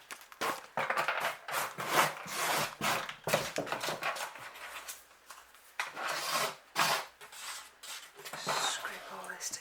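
Potting mix being scraped and pushed together by hand while repotting a Phaius tankervilliae terrestrial orchid, giving close, continuous rasping and rubbing with short pauses.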